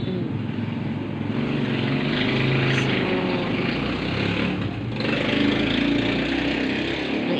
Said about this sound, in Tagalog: Ang ingay ng mga sasakyan sa labas, mga ka-moment, yung tambutso ng mga motor ay sobrang lalakas.